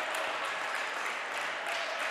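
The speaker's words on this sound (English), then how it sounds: "the crowd here giving these Lady Bulldogs a standing ovation" A crowd gives a standing ovation at a college women's volleyball match, steady dense applause filling the gym at moderate distance, continuous without pause.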